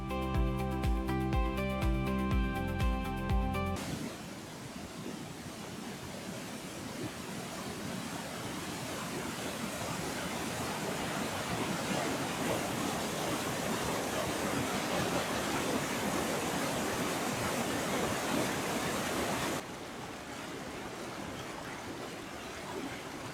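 Mountain water near Zakopane rushes over a debris check dam built from large rock blocks, a steady broadband roar that holds for most of the span, joined by brief tonal sounds at the start.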